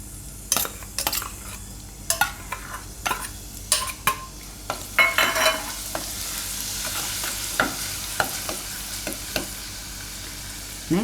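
Chopped garlic hits hot oil in a pan for matka Maggi, sizzling steadily while a utensil clinks and scrapes against the pan in irregular sharp taps.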